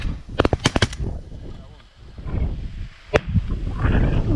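Shotgun blasts ring out during a waterfowl pass-shooting hunt between two ponds in North Dakota: a quick cluster of four or five sharp, loud reports, then a pause and one more crack, with wind noise and a voice underneath.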